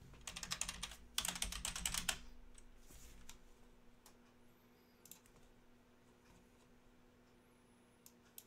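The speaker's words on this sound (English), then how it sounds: "let me finish typing it up" Bursts of quick typing on a computer keyboard rattle close by, then taper into sparse, isolated key clicks against a quiet room.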